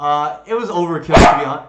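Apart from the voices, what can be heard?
dog barking, the speaker's dog Blue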